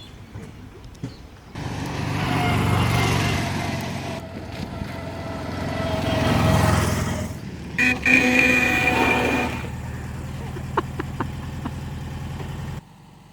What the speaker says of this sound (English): Burning rubber. Smoking those tyres.